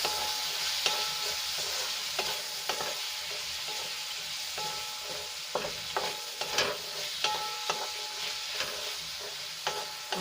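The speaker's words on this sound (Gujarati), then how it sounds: "બધું આપણે સરસ રીતે મિક્સ કરીને 1 મિનિટ માટે સાંતળી લઈશું" Red chili powder and garam masala sizzle gently in a pan while a spoon stirs and scrapes, sharp clicks and clatters over a steady frying hiss, close and alone.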